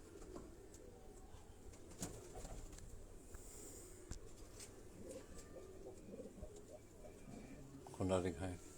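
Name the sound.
pigeon cooing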